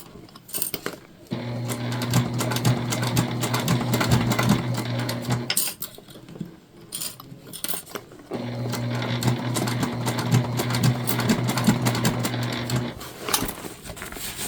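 Sewing machine stitching a bag, running in two long steady bursts with a brief pause between them, loud and close with no voices.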